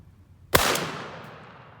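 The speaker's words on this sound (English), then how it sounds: "we're going to be shooting the heavy shot choke tube with the Remington turkey ammunition at 40 yards" A single sharp shotgun blast fired with a heavy shot choke tube and Remington turkey ammunition, loud and close, followed by a short decaying outdoor echo.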